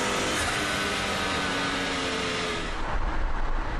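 A car engine running steadily while driving on tarmac, a continuous broadband roar with a low rumble that stays loud throughout, slightly rougher toward the end.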